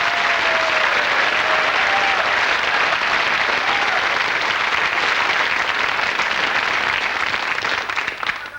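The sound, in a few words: audience applause at a magic show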